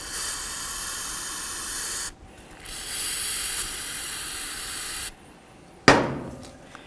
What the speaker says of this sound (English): Now I want to start spraying inside of these ports right here.